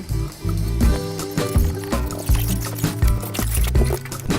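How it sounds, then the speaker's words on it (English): Hot water pours from a kettle over dry rice noodles in a pot for Vietnamese pho, a close, loud gurgling stream with uneven splashes throughout. "Use hot water. Make sure it's completely submerged in the water."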